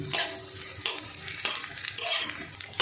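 Gobindobhog rice frying in ghee and being stirred in a pan: close, steady sizzle broken by repeated scraping strokes of the spatula, with no talking.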